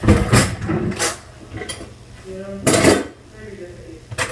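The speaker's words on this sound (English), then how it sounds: "So let me just get a knife." Metal cutlery clinks and rattles as a knife is pulled from a kitchen drawer while making Halloween treats with Oreo cookies, a few short clattering bursts between stretches of talking.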